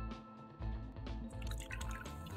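Sprite poured into a glass, a quiet liquid trickle with drips and faint fizzing that rises slightly in level, with no other sound over it.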